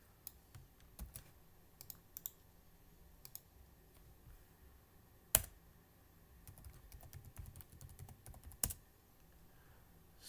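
Someone types a Linux terminal command on a computer keyboard, with scattered quiet key clicks, a few sharper strikes and a brief faster run near the end, over a soft room hum.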